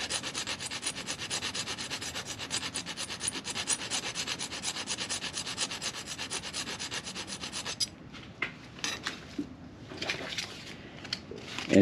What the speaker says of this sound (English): So I just file it like that.